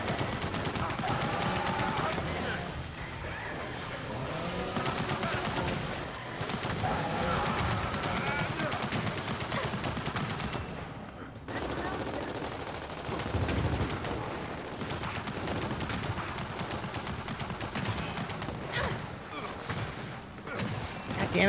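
Turret gunfire in a video game rattles in dense, continuous bursts alongside other battle noise, loud and sustained, with a person talking over it.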